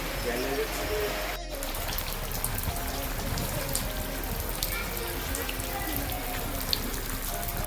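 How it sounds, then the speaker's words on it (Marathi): The season's first rain, with wind, pours down steadily in a village in a constant wash of drops, with a brief sharp click near the start. "या पावसासोबत वारा देखील आहे आणि तुम्ही बघू शकता छान असा पाऊस होतोय"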